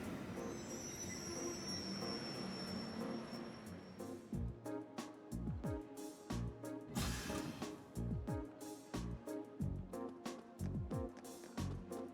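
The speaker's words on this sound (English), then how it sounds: "Transcontinental Railway service bound for Crossbell State now arriving on platform 2" A train arrives at a station platform in the Trails of Cold Steel video game, with an ambient platform hum followed by loud, rhythmic wheel clatter and repeated metallic squeals as the cars roll in.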